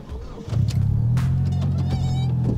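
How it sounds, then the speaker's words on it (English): An engine turns over and settles into a steady, low idling hum, loud and close, with a faint higher whine riding on top. "So now that the car's running"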